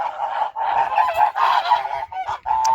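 A flock of domestic geese on a village farm honks continuously, loud and close, with overlapping nasal calls in quick succession.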